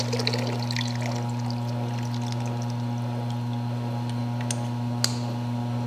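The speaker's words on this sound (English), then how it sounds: "pulling your drain valve, the water will be coming out of your buckets" Water drains from a Taylor by Frigomat GX2 machine through its open drain valve into buckets, a steady pouring rush under a constant low mechanical hum, with a few faint clicks.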